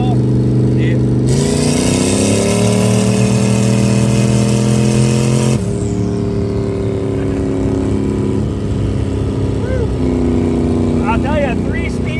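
A turbocharged Gen 5 6.2L V8 in an S10 truck with a 3-speed transmission and 373 gears pulls hard at full throttle, its loud, close engine tone climbing and then dropping as it shifts, with rumbling road noise throughout.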